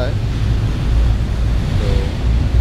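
Sea water churns loudly and continuously in the wake of a ferry crossing from Holyhead to Dublin, a dense roar mixed with wind buffeting the microphone.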